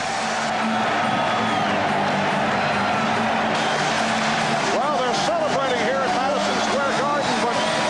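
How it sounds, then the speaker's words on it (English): Madison Square Garden crowd roaring during Knicks versus Pacers Game 7 of the 1994 Eastern Conference Finals, a dense sustained roar that swells louder partway through, with shrill whistles and a broadcaster's voice riding over it. "Go ahead and turn that up so you can hear the Garden crowd go crazy."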